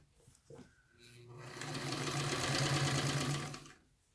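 A sewing machine runs steadily for about two and a half seconds while stitching a sleeve seam, starting up and then stopping, preceded by a few brief handling clicks.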